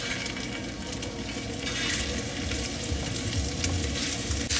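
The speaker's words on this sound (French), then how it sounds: "On met l'huile. Quand même beaucoup d'huile pour que les boulettes ils frient." Meatballs frying in a generous amount of oil in a hot pan, a steady dense sizzle and crackle that fills the whole stretch, close and loud, with no talking.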